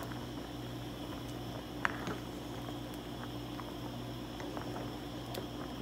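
Jamaican fish soup with fish pieces simmering in a pot, giving a steady low bubbling and soft patter at close range, with a few faint clicks and no voices.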